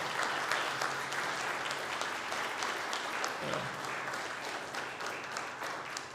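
Church congregation applauding in a special recognition service, a continuous wash of clapping at a distance, fairly quiet and steady for several seconds, with a faint voice briefly under it.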